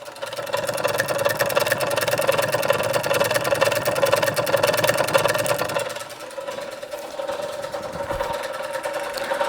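Restored Empire B-33 engine running steadily and fairly quietly, a fast rhythmic mechanical ticking over an even hum, easing a little partway through before carrying on, no talk over it.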